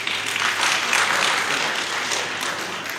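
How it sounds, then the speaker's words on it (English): A crowd applauding steadily for a few seconds, a dense even wash of clapping heard from within the room. "I'm sure that the Director deserves a bigger round of applause."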